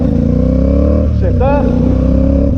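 A CFMoto 450SS motorcycle engine-brakes through a downshift in a parking lot. A steady loud engine drone dips, then a brief rising rev blip follows before the drone settles again. A voice talks over it.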